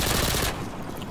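An MP5K submachine gun sprays a fast, continuous automatic burst in IW4x, loud and close, cutting off abruptly about halfway through a second-long moment.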